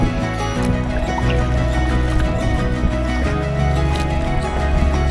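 A sea kayak is paddled through open water near the Isle of May, with repeated close splashes and drips from the paddle strokes over a steady background wash.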